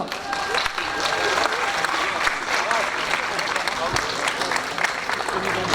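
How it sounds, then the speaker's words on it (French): A crowd applauds steadily and loudly throughout at a free school-bag distribution event in Courbevoie, dense clapping filling the space with a little voice mixed in. "Vous pouvez l'applaudir absolument."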